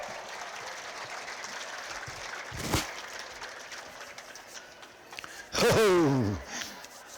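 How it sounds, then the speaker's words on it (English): Applause from a grandstand crowd for riders at a relay horse race championship, a low steady clapping bed broken by a sharp thud and a loud rising voice or call, moderately distant. "Let's give them a nice round of applause as they come to the grandstand area."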